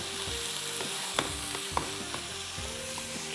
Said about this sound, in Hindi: अब इसकी ज़रा अच्छी तरीके से पहले करते हैं भुनाई